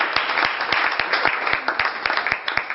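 Audience applause at a French-language church teaching on victory over witchcraft, a dense steady patter of many hands clapping, with sharp individual claps standing out through the sound, fairly loud and without speech.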